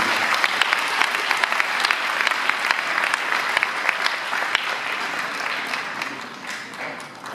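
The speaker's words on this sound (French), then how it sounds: "on peut les applaudir" An audience at a mayor's New Year greetings ceremony in France gives sustained, dense applause, loud and even throughout before tapering off slightly at the end.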